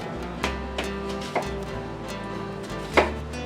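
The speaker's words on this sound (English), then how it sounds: "We have to cut up our onion." A knife slicing a red onion on a cutting board, close and fairly quiet, a few sharp chops spaced about a second apart over a low background hum with no talk.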